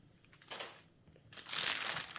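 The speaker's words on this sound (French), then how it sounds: "Papier bulle." Bubble wrap packaging is crinkled and crushed by hand while a parcel is unboxed, two bursts of close crackling with the second louder and longer.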